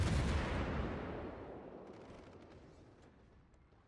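Heavy naval gunfire from an Omaha-class cruiser in World of Warships, a loud booming blast that decays slowly into a rumbling tail, with faint crackling impacts later on.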